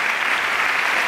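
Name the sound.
audience applause for the festival team on stage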